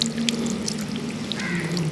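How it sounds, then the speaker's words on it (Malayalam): Water pouring and splashing while fish is rinsed in a kitchen, a continuous soft trickle at close range with faint bird calls in the background. "അപ്പോൾ നമുക്ക് മീനൊന്ന് കഴുകിയെടുക്കണം"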